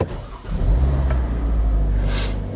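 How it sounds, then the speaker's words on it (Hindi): A Kia Sportage AWD crossover's engine catching and settling into a steady idle, close and fairly loud, with a brief hiss partway through and another airy burst near the end. "पहले ज़रा हम जो गाड़ी को स्टार्ट करते हैं"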